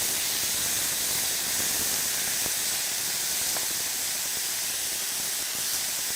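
Tomatoes blistering in a hot pan while cooking orzo-stuffed bell peppers give off a loud, continuous, even hiss of sizzling that holds steady from start to finish, with no voices.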